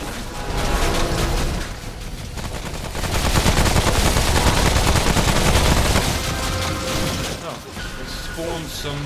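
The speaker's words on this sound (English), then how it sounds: "I reckon my beam gun will be good for this one." Beam gun firing in the video game Remnant from the Ashes: loud, dense gunfire that runs almost continuously, easing slightly near the two-second mark and again late before surging back.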